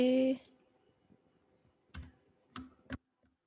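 Computer keyboard keys are pressed for a Ctrl+C copy. A short burst of a voice comes first, then after a quiet pause three sharp, separate clicks sound close by.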